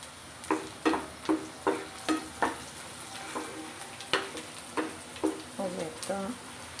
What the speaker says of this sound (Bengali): শুটকি মাছটা একদম ফ্রাই হয়ে আসছে।